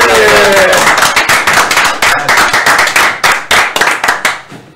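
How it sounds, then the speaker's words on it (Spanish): Close, loud clapping from a small group welcoming a guest on an Argentine political talk show, brisk and uneven, tapering into scattered claps, with voices over the start. "Un aplauso, che."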